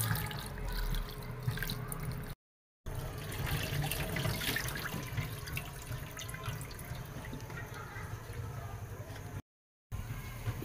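Water runs and splashes steadily into a bowl of dry rice noodles for soaking, close by, with brief gaps of silence.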